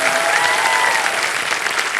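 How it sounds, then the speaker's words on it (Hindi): A studio audience on a quiz show set claps loudly in a dense, steady burst of applause that fills the whole moment without pause. "एक बार आशा जी के लिए जोरदार तालियां बजाएं।"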